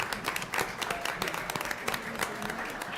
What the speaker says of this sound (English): Please give them a round of applause, ladies and gentlemen